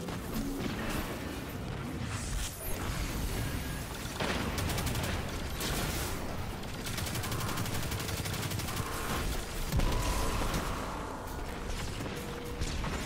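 Heavy-weapon gunfire in the shooter game Destiny 2, with dense bursts of shots, blasts and impacts that run almost continuously, loud and layered.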